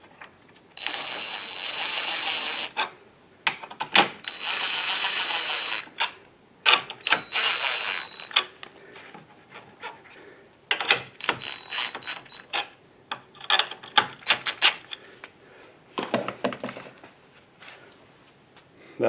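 Bolts being tightened by hand tool during a Honda 3.0 VTEC starter replacement: bursts of rapid ratchet clicking alternating with short pauses and scattered metallic taps, close and moderately loud.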